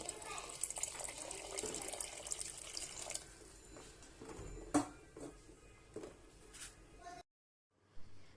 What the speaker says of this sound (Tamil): உங்களுக்கு தேவையான அளவு தண்ணி உப்பு எல்லாம் சேர்த்துக்கங்க